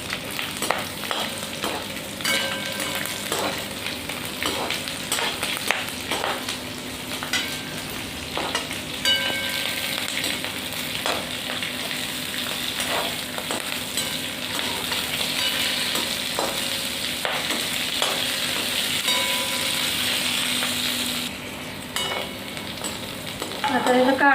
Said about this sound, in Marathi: त्याच्यात लसूण आणि हे हिरवी मिरची टाकायची आणि ह्याला चांगलं असं भाजून घ्यायचं